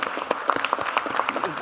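Audience at a town hall meeting in Ulsan claps, a brief burst of dense, close applause from a crowd, sharp uneven hand claps with no talking over it.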